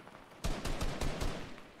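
Rapid SMG fire in Fortnite, a few quick bursts of game gunshots with short gaps between them, loud and close over a steady background hum of game ambience.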